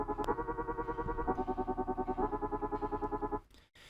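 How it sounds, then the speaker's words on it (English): Granular synth plugin Audio Damage Quanta with its shape level lowered gives a dense, buzzing processed tone that pulses in a fast steady rhythm for about three seconds, then cuts off abruptly into brief choppy fragments. "let's turn the level of the shape down and see how it sounds now."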